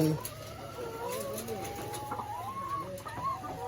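Laying hens on a small farm clucking and murmuring continuously at close range, several birds overlapping in a soft, irregular chorus over a low steady background hum.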